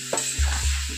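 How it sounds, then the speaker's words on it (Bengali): Rohu fish curry with drumstick pods is sautéed in a pan, giving a brief close sizzle with soft stirring and scraping. "এবার খুব ভালো করে কষিয়ে নেবো।"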